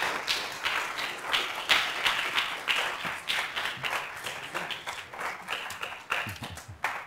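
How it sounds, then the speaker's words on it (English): An audience at a convocation applauds Joel Peterson, with distinct, rhythmic claps forming a lively, fairly close round of applause that carries on steadily. "Let's give a round of applause to Joel Peterson"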